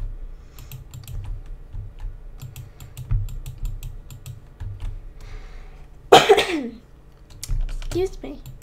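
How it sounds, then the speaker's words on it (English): One loud, harsh cough bursts out close to the microphone after steady computer keyboard typing, followed by a brief throat sound and a few more keystrokes. "Horrible cough."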